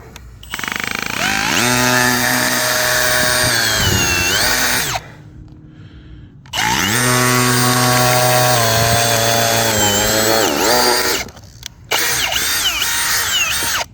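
A drill-powered wood splitting auger bores loudly into backer wood in two long grinding runs separated by a short pause, with a third burst starting at the end.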